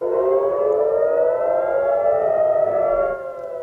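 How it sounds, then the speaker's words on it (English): Air raid sirens wail continuously during a barrage of Hamas rockets fired from Gaza into Israel at the new year, a loud, steady rising tone holding throughout before easing slightly at the end. "Sirens blared just moments into 2024 as Hamas launched a barrage of rockets from Gaza into Israel"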